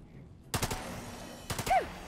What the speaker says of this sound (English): You can just take a couple shots here.